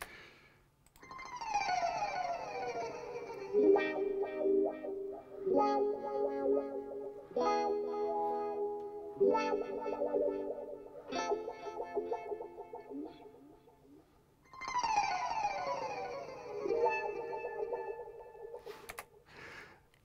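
Guitar phrases drenched in bouncing ping-pong stereo delay, vintage plate reverb and auto-pan, notes repeating and sweeping side to side, several strummed passages with trailing echoes.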